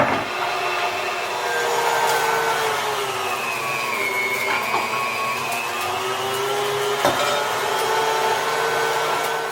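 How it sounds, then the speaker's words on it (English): A motorized meat grinder runs continuously while grinding ingredients for Iranian bread salad, a loud close whirring drone whose pitch dips and rises as the load changes, with a couple of brief clunks and no speech. "Once you put it into a meat grinder,"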